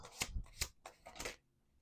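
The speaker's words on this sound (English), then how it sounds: "Let's do 2 more shuffles." Tarot cards being riffled and shuffled at a table, four quick papery bursts in a row, close and fairly quiet, then settling into near silence.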